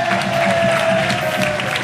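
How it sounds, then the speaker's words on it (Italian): Loud, dense applause from a talent show audience at a season finale, a sustained roar of clapping with some cheering, steady for the whole stretch. "un applauso"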